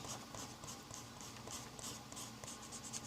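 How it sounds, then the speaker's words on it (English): An eraser rubs out pencil letters on paper in a quick, steady scrubbing rhythm of close, soft strokes, heard alone. "I can come in here with an eraser and I can erase that R"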